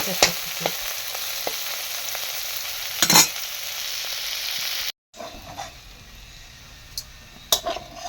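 Food frying in oil in a pan during home cooking sputters with a steady, soft sizzle. A brief stirring scrape is heard, then the frying settles into a quieter crackle with occasional pops.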